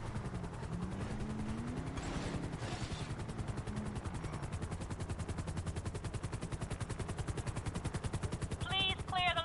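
Luxury helicopter in a video game arriving overhead: steady rapid rotor thumping dominates throughout, loud and close, with a brief chirp near the end.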